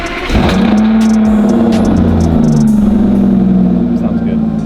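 An Aston Martin Rapide's V12 engine revs hard, a loud, close roar that rises and holds with a strong low growl for several seconds, with a voice briefly heard over it.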